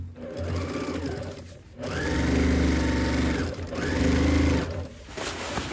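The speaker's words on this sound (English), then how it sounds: "I'm gonna turn this and sew the two sides" A fast sewing machine stitches straight down the two sides of a fabric cover for a rolling TV cart, running in two loud, close bursts of rapid whirring separated by brief pauses.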